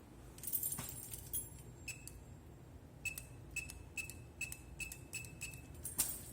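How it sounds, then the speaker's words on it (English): A code punched into an elevator keypad, a run of about ten short evenly spaced electronic beeps with light clicks, close and fairly quiet over a low room rumble, no talk. "I will punch in my code so that the elevator would work"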